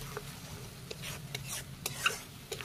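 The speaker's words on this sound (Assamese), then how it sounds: "এইখিনি এনেকৈ 5 মিনিটমান সময় অকণমান মই লৰাই ল'ম" Narasingha (curry) leaves and bhedailota are stirred as they fry in a pan, giving soft scraping strokes and light clinks that repeat irregularly over a faint, steady sizzle.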